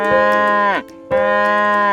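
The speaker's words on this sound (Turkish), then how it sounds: "Çiftliğinde inekleri var." A cow moos twice in a children's farm song, each long, loud, tonal low call followed by a short gap, sung or voiced with a clear harmonic tone.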